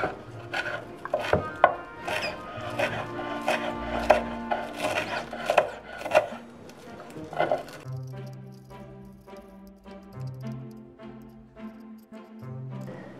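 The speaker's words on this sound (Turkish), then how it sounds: "Biraz maydanoz doğrayacağım." A knife chops parsley rapidly on a cutting board, steady quick taps close up, then fainter scattered cuts and soft scraping, no talking.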